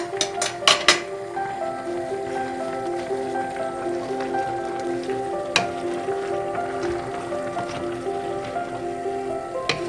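Bigos being stirred in a frying pan after salt goes in, with a steady low sizzle of frying cabbage and a few sharp clinks of the spoon against the pan near the start and around the middle.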